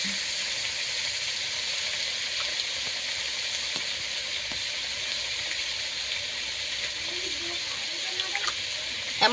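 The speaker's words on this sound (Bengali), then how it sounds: "পেঁয়াজ আর টমেটো আমি দু মিনিট ভালো করে ভেজে নেব" Onions and tomatoes fry in a pan with a steady, close sizzle throughout, broken by occasional faint stirring clicks.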